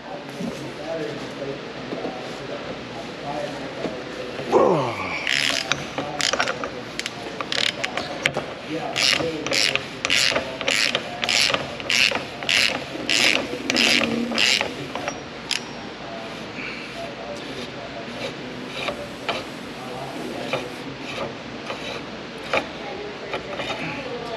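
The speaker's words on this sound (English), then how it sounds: "I'm going to take that lower ball joint out" Metallic clicking and ratcheting while a lower ball joint is worked out of a bent suspension control arm in a repair shop, a fast run of sharp tool clicks with scattered clanks and a voice talking faintly in the background.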